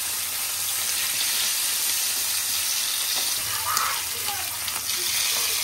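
Fish shallow-frying in oil in a non-stick pan, a steady, dense sizzle and crackle that runs the whole time with a few louder pops, close up.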